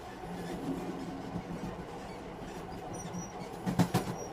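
A train running along rails at night, a low steady rumble with faint rhythmic clatter that swells into a few louder clacks near the end, no voices.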